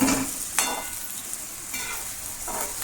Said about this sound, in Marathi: आता दोडका तेलामध्ये परतून घेते।